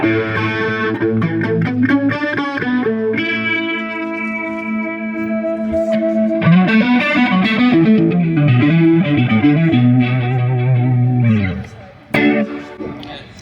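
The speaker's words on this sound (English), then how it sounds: "now I have it set up for like a subtle sort of chorus" Electric guitar playing sustained chords and melodic lines through a subtle analog chorus pedal, warm and slightly driven, ringing out before a brief pause and final note.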